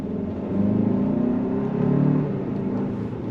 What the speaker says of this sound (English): Going over the speed humps, solid, rock solid. Smooth downshifts.